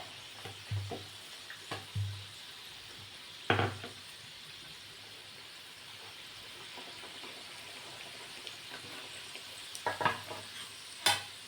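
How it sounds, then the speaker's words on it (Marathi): Kachoris deep-frying in oil over medium heat, a soft steady bubbling sizzle broken by several sharp utensil clinks and scrapes at irregular intervals. "जेवढ्या आपल्याला या तेलात मावतील तेवढ्या टाकायच्या आणि मध्यम आचेवरती तळायच्या आहेत"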